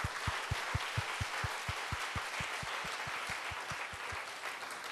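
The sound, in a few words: congregation applause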